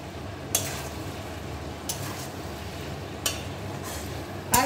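Spiced kachki fish mixture is stirred in a wok, with a quiet steady sizzle broken by three or four brief utensil scrapes and taps spaced about a second apart.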